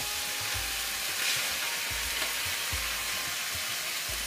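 White wine hissing and sizzling as it hits a hot pan for a mushroom sauce beside a fillet steak, a steady close crackle with a few louder bursts, no talk.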